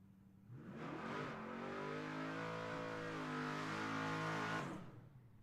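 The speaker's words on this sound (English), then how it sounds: "Chevy Malibu on the way down that American walk-in coolers lane." A Chevy Malibu G-Body drag car launches and races down the lane, a loud rising engine roar building over a few seconds and then fading as it pulls away, heard from the track side.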